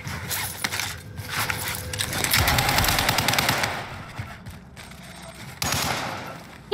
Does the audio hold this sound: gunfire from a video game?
yes